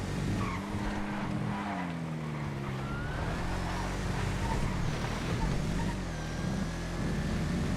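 An Emirates GTR racing in GTA FiveM, its engine droning steadily with rising and falling pitch while tires squeal and skid, loud and continuous throughout, with other vehicle noise layered underneath.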